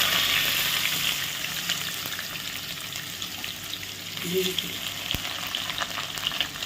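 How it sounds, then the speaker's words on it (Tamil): Onions frying slowly in ghee with bay leaves, cinnamon and cloves for wedding-style ghee rice, a soft steady sizzle close by with a brief stir partway through and no talk. "ஸ்லோவில் வச்சு நம்ம ஃப்ரை பண்ண போகிறோம்"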